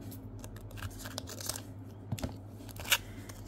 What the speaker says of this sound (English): Trying to creep the crinkling down for you less on this one.